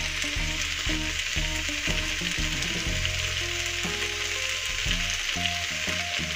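Spinach stir-fries in a hot pan, salted and half-cooked. A loud, continuous sizzle runs throughout, broken by repeated clattering stirs and scrapes of a utensil against the pan. No one speaks.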